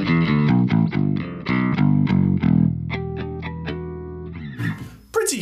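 Clean bass guitar played through an Engl amp at a boutique guitar festival: a run of plucked, slightly bright notes, some ringing longer, loud and close, ending in a short burst of noise.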